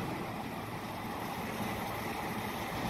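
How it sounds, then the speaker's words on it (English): A York package unit's indoor blower motor runs steadily, giving a continuous, even broadband whoosh of moving air with a low rumble beneath, holding constant loudness throughout with no other sounds. "Right now we just have the indoor blower motor."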